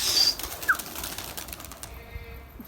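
Pigeons flap their wings in short, restless bursts close by, with a loud flurry at the start and softer rustling flutters after, mixed with faint coos.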